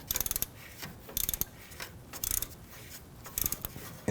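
A hand ratchet snugs down an AC suction hose fitting on a 2009-2017 Volvo XC60. It gives several short bursts of clicking separated by pauses, close and moderately quiet.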